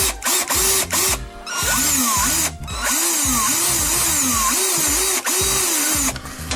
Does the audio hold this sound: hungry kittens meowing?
no